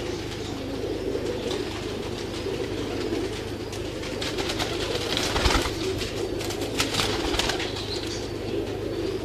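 Pigeons in a loft coo against a dense, steady background of wing flutter and rustling, close and continuous throughout, with no talking.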